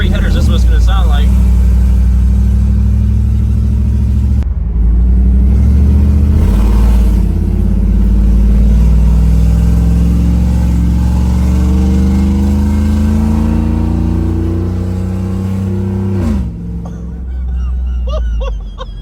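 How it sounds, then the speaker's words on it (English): A 2014 GMC Sierra with the 5.3 V8 and 1 7/8-inch Speed Engineering long tube headers revs loudly and up close, rising and falling through several throttle blips before dropping to idle, with voices heard over it. "So if you want just straight headers, this is what it's gonna sound like."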